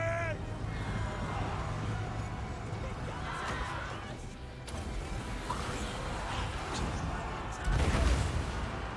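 Artillery fire in a Total War: Warhammer 3 battle with Bretonnia against Dark Elves, heavy booms and rumbling gunfire over a continuous battle din, with a louder blast near the end.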